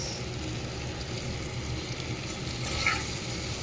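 Chopped onion fries in a hot pan with a steady, close sizzle, and a brief scrape of stirring near the end.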